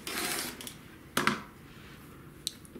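A rotary cutter slices quilting fabric in half in a short swish, then a sharp click and a faint tap follow in a quiet room.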